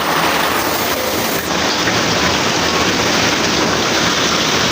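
Heavy rain pours down hard during a storm, flooding a room, a dense, constant roar of water that is loud and close, with no pauses and no talking.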